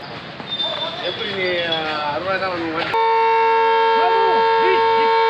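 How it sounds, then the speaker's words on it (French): A long, steady civil defense siren wail drones loudly in the background during a monthly test in Tiruchirappalli, India, while people talk over it, the tone sustained and unchanging. "Ils testent les sirènes. C'est comme en France, on est le premier mercredi du mois."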